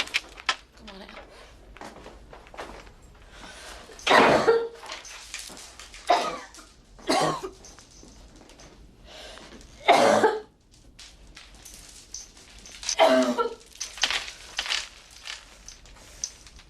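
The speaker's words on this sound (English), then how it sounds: "How long have you had that cough?" A woman coughs repeatedly in harsh, irregular bursts, some loud and close, mixed with throat clearing, rustling and brief speech between the fits.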